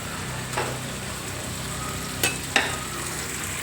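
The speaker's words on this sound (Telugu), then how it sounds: "దీనికి ప్రస్తుతం అయితే కొంచెం సాల్ట్ వేసి ఫ్రై చేస్తున్నాను" Chicken pieces frying with salt and lemon in a pan, a steady sizzle punctuated by three brief clicks of a stirring spoon.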